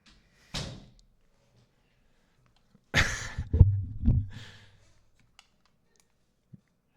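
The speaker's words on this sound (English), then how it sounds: "Yeah, please shut the door." Door shutting indoors: a soft early knock, then a louder cluster of thumps and a latch clunk around the middle, followed by quiet with faint clicks, close and without speech.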